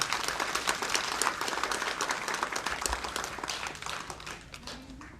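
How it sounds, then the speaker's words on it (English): Round of applause from the audience at a women's summit, many hands clapping briskly and evenly, fairly loud and close, tapering off over the last second. "let's give another round of applause for Dr. Samuel."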